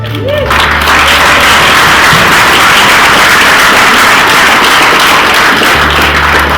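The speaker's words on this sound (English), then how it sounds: "They deserve a round of applause" A crowd gives steady, dense applause to school library staff and teachers at a library makeover event, loud and sustained throughout, with a low hum under the start and end.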